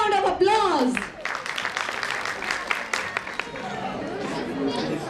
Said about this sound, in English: Let's welcome them with a big round of applause.